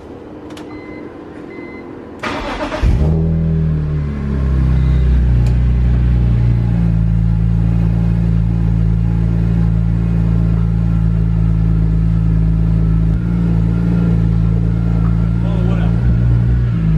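A BMW M3 converted from SMG to a manual gearbox: the engine starts with a brief crank, then settles into a loud, steady idle rumble close by, with a faint hum at the start before ignition.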